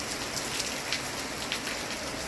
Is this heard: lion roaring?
no